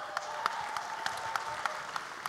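Audience at a national cosplay championship at a convention applauds, a thin, moderate patter of clapping with a few sharper nearby claps standing out.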